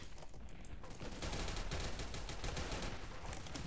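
Rapid automatic gunfire in the video game BeGone, a dense continuous burst of shots that runs for a few seconds at moderate loudness with no talk over it.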